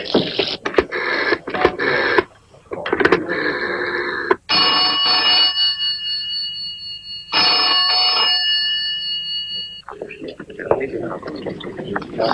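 An unanswered telephone rings in a French action-adventure drama series, with two long electronic ring bursts following a stretch of noisy clatter and movement, close and fairly loud.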